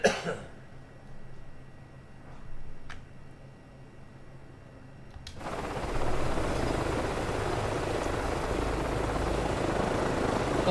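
A helicopter in a video game flight simulator, its engine and rotor noise faint at first, then jumping into a loud, steady broadband roar about halfway through that holds to the end, with no talking.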